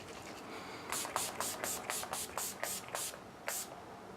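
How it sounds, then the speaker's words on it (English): Urban Decay setting spray misted onto a face in a rapid run of about ten short, close hissing bursts, each one crisp and airy, with brief pauses between and no talking. "I'm gonna spray myself with my Urban Decay"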